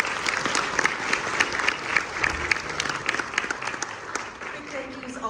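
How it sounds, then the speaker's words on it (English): An audience claps for students at a school research presentation, a steady wash of applause with some faint voices mixed in. "How about another round of applause for the amazing work that they're doing?"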